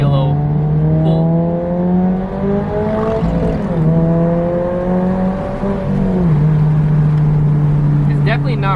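A 2022 Subaru BRZ fitted with a track edition catback exhaust revs up through rising engine tones, briefly dipping at gear changes before climbing again, loud and close as heard from inside the car.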